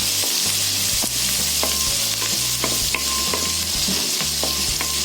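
A tablespoon of turmeric and spices fry in hot oil in a pan for a chicken gravy curry, a loud steady sizzle with stirring scrapes over a rhythmic background of music tones.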